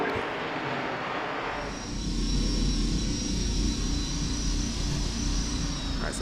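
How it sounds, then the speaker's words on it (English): TIE fighters fly in the X-Wing VR video game with a sustained, loud engine roar and a rising whine, under a steady rumble, with no talking. "TIE fighters are inbound."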